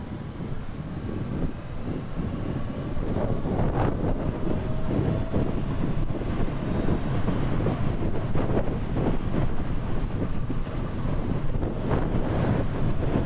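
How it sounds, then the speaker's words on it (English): Wind roar buffets the microphone while a Ninja 7 motorcycle cruises at speed in the evening, a steady broadband rush with gusty low rumble and no talking. "I'm riding a Ninja 7"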